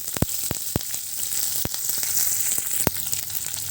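Dried red chillies, chopped onion and curry leaves hit hot oil for a South Indian tempering, giving a steady bright sizzle punctuated by several sharp pops and crackles.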